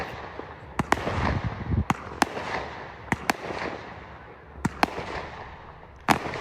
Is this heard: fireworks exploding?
yes